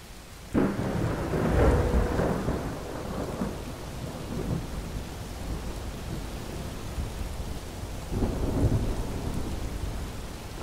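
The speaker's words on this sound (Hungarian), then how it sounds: "Most meg szakad az eső." Heavy rain pours steadily in modded Skyrim while thunder rumbles low and close, with a strong crash at the start and a second rolling peal near the end, no voices over the downpour.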